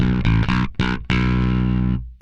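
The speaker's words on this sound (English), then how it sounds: "So now we're going to turn our microtubes engine on, same settings as we had before" An electric guitar runs through a Microtubes drive engine with a compressor, playing a few choppy overdriven chords and then a sustained distorted chord that rings out and fades, loud and up close.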